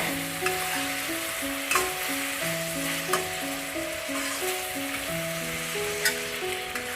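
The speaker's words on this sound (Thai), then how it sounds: "เราจะผัดทุกอย่าง" Oil sizzles steadily as ingredients are stir-fried in a pan, with periodic scraping of the spatula, and soft music plays underneath.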